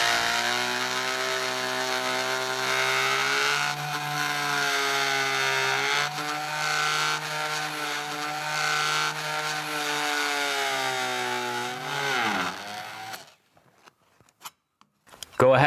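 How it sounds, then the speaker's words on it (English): An oscillating multi-tool cuts a luxury vinyl tile plank against a door casing, giving a loud, steady buzzing whine that holds for about thirteen seconds and then cuts off, followed by a few faint knocks. "we're going to be using this oscillating tool, which is a great tool to have to get in tight spaces"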